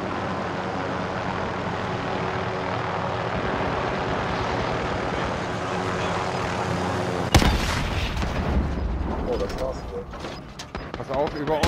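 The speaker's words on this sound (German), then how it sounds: "Über uns ist ein Heli." Helicopter flying overhead in the Call of Duty Warzone battle royale game: a loud, steady rotor and engine drone that breaks partway through into a sharp blast and rougher mechanical noise, with the drone continuing under it.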